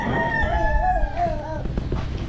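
A rooster crows loudly and close by, one drawn-out cock-a-doodle-doo with rising and falling pitch, followed by clucking and farmyard noise.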